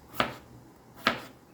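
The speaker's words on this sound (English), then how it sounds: "now I'm just dicing this up really quick" Two sharp knife strikes on a cutting board while potatoes are diced, spaced about a second apart, close and fairly quiet with no talking.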